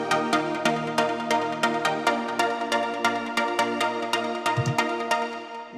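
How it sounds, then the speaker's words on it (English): A 138 BPM trance breakdown with rhythmic synth chords and an added low synth pluck an octave lower, steady repeating plucks playing close and clear without any voice. "but I just added a pluck an octave lower"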